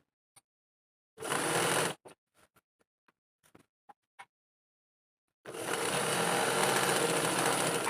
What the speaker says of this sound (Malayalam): ഒരു കാലിഞ്ചിൻ്റെ ഗ്യാപ്പിൽ നമ്മൾ സ്റ്റിച്ച് ചെയ്ത് അങ്ങോട്ട് പോവുകയാണ് ചെയ്യുന്നത്